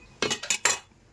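Chopped potatoes for a quick potato curry drop into a metal pressure cooker as three fast clattering knocks in under a second, close and alone, followed by quiet.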